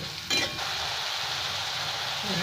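Spice masala with Kashmiri chili powder fries in oil with a close, steady sizzle, and a brief scrape of stirring near the start. No one speaks.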